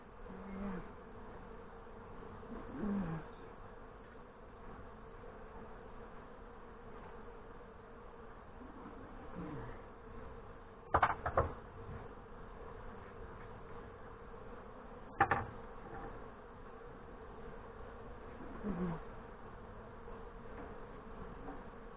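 Honey bees hum and drone steadily around a hive in Northern Michigan, a low continuous buzz with individual bees passing close at intervals, no talk heard.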